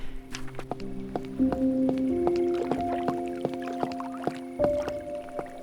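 Water laps and drips softly in the vampire-themed video game Cabernet, with steady tonal music chords sustained over it and small splashes scattered throughout.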